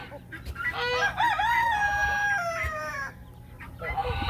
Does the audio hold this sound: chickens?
yes